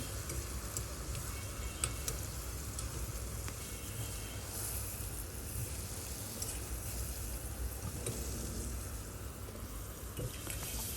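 Shrimp frying briefly in hot oil in a wok, a faint, steady sizzle with occasional small ticks and pops over about eleven seconds, no voices.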